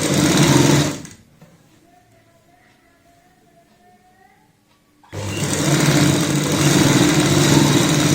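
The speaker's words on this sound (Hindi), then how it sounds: "यहाँ पे फिर से पट्टी रखेंगे और बराबर गैप रखते हुए सिलाई लगाएंगे।" A sewing machine stitching a fabric strip onto a kurti neckline, loud rapid whirring that stops for about four seconds of near silence, then resumes strongly and runs on.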